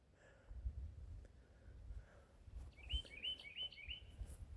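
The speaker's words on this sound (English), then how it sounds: "I hear the birds." Birds chirping outdoors in a quiet yard beside an old 1970s Wheel Horse lawn tractor, with short bursts of high tweets toward the end over low background rumble.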